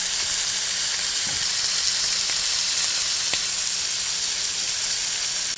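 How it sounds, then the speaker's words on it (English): Shrimp frying in a pan give off a steady, close, even sizzle with faint crackles and a few soft clicks, no voices. "Fry them for about 2 minutes on each side,"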